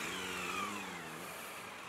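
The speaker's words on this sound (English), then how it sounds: "It's got a nice bassy exhaust note." A 2018 Suzuki V-Strom 1000XT motorcycle runs with a steady, low engine and exhaust drone, heard faintly and continuously for a brief moment without speech.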